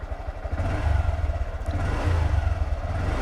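A motorcycle engine revs up as the throttle is twisted, a close, throbbing low rumble that swells and surges unevenly, heard alone without speech.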